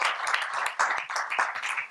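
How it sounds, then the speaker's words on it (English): An audience at a conference session applauds, dense clapping from many hands throughout, steady and moderately loud. "A round of applause for all of them."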